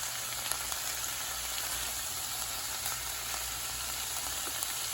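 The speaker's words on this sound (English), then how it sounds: "just let that go ahead on and saute up for a few minutes" Meat for lasagna sautés in a pan, making a steady, moderate sizzle with faint crackles that continues evenly throughout, with no talking.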